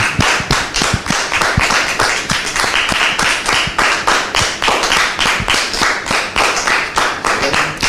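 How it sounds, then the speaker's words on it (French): A studio audience claps steadily to welcome Brother Jérôme onto a French comedy show stage, a dense run of sharp, close hand claps lasting throughout at a loud, even level. "Merci de le recevoir sous vos applaudissements."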